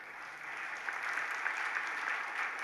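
An audience at a temple sermon breaks into applause, a dense, even patter of clapping held at moderate level with no voice over it.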